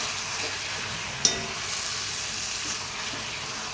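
Chili chicken frying in a pan, a soft continuous sizzle with one sharp clack of a ladle or spatula breaking up the pieces and a fainter scrape afterward, close and moderately quiet.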